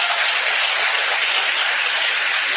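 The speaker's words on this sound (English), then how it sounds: "So give Gwen a huge round of applause." A large audience at a live marketing mastermind event applauds for a speaker, giving a dense, steady wash of clapping that stays loud and even throughout with no pauses or voices.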